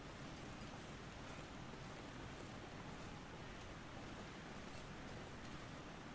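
Loud waterfall in the survival game The Long Dark, a steady, dense roar of rushing water that holds unbroken from start to finish, with no voices.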